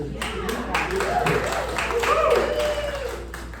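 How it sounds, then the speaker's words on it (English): Comedy club crowd at a clean stand-up headlining show in The Woodlands, Texas, breaking into a short burst of applause. The clapping is dense and steady, with a voice talking over it. "Big round of applause for you guys."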